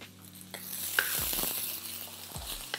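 Garlic, ginger and the white part of green onion sizzle in oil in a frying pan, a steady close hiss punctuated by scraping and clinks of a spatula against the pan.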